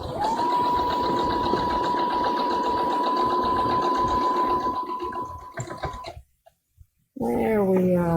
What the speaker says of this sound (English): it's an interesting experience sewing standing up like this